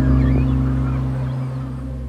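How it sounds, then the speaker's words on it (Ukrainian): Cormorants with chicks gather on newly exposed islands of a drained reservoir, giving loud, close, harsh honking calls over a steady low droning background. "Але баклани із пташенятами зовсім не раді відвідувачам."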